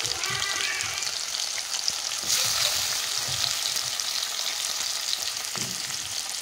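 Chopped tomatoes and onions fry in a pan for a curry, giving a steady, close hiss and crackle with a few faint clinks of stirring and no voices.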